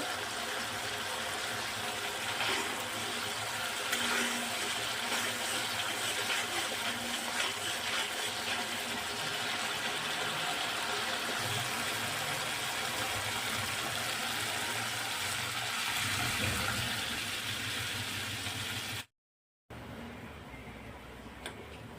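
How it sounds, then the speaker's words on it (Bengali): Water pours steadily into a pan of fried spice paste while cooking pomfret curry, a continuous close rushing and gurgling with faint ticking clatter, ending abruptly in a brief silence before quieter sizzling. "মশলাটা আমার ভালো করে কষানো হয়ে গেছে এবার আমি ওর মধ্যে জল ঢেলে দেবো"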